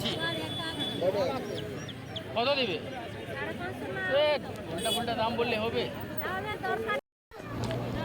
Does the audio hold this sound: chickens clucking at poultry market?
yes